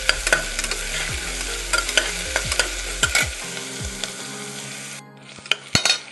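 Masala being stirred and sautéed in a pan for a chickpea curry, a steady sizzle broken by repeated scraping strokes of a spoon, close and clear, fading out near the end with a few sharp knocks.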